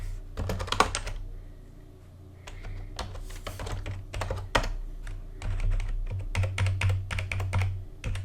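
Swift code being typed on a computer keyboard, a steady run of quick, close keystroke clicks in uneven bursts over a low background hum, with no talking.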